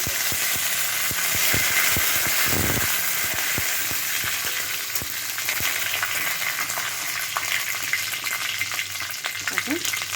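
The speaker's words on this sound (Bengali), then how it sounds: "এখন আমি এর মধ্যে কারি পাতাটা দিয়ে" Curry leaves crackle and sizzle in hot oil in a pan of lentil dal preparation, a dense continuous fry hiss with sharp pops and a few utensil knocks, close and loud, with no speech.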